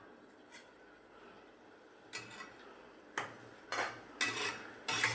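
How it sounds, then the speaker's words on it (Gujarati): Kaju paneer curry being stirred in a pan, a spoon clinking and scraping against the metal in several short, sharp strokes that come closer together and louder toward the end, with no voices. "હલાવી લઈશું."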